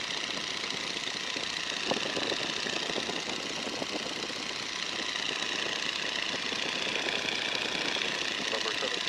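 A 1942 Boeing N2S-2 Stearman biplane's engine drones steadily at cruise power, around 1,750 RPM, heard from inside the cockpit as a dense, unbroken roar with muffled voices at times.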